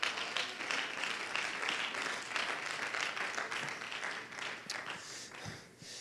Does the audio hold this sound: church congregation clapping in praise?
yes